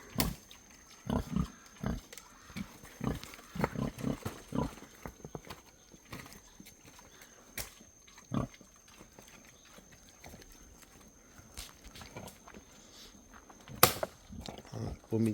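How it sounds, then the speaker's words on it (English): Pigs in a pen on Niue Island eating chopped leaves, with scattered crunching, rustling and snuffling that come close up in irregular bursts amid quiet gaps, and voices now and then in the background. "just chuck them for your pigs, and they'll take care of it"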